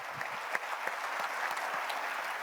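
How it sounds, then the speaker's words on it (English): Crowd at Rocket Arena in Cleveland claps in a steady, fairly distant round of applause during a team name and logo announcement, with a few sharper individual claps standing out. "we didn't build a round of applause into the run of show, so this is great"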